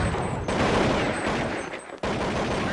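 Rapid bursts of gunfire in a Counter-Strike match, dense crackling volleys with a brief gap before firing resumes.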